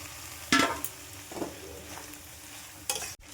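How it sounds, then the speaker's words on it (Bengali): Flat beans frying with cumin and turmeric in a pan make a low background sizzle, broken by a few sharp scraping stirs and a clatter near the end. "শিমটা আমি বালাটিকে মশলা দিয়ে ভাজা ভাজা করছি।"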